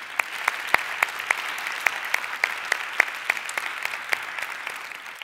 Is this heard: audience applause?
yes